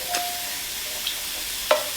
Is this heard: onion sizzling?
yes